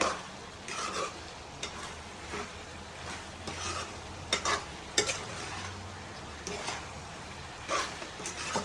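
Mutton boti curry with spices being stirred in a pan, giving a steady scraping and soft sizzle with periodic louder strokes of the spoon, close and moderate in level, with no talking.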